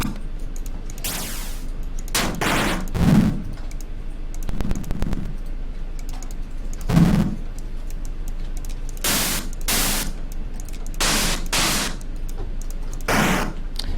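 A run of short synthetic explosion sound effects generated for a video game, separated by brief pauses, each a harsh burst of crackling static like a retro game explosion.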